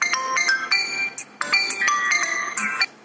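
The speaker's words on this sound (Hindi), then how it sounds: "अभी फोन आ रहे मम्मी घर से" A mobile phone rings with an incoming call, its bright electronic melody of repeating tonal notes playing loud and close, with short gaps between phrases and no voices.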